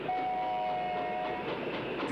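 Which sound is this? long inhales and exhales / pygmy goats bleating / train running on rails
train running on rails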